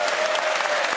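A comedy panel show's studio audience bursts into a brief, dense, loud round of clapping that fills the whole moment without a break.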